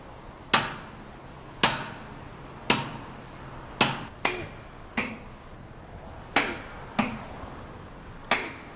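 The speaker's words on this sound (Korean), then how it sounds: "망치를 허공에 갈라 체결된 핀을 빼내는 일은 수십 년 베테랑에게도 결코 녹록지 않은 작업이다" A 3 kg hammer strikes out pins on a tower crane during its dismantling, ringing metallic blows landing one at a time at uneven intervals, each loud and sharp with a short decaying clang and quiet gaps between.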